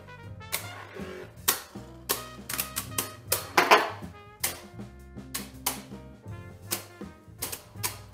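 Beyblade Burst QuadStrike tops, including a Stellar Hyperion H7, battle in a stadium, giving a fast run of sharp metallic-plastic clacks and ticks at an uneven rhythm, with a denser burst of scraping collisions midway, close and fairly quiet.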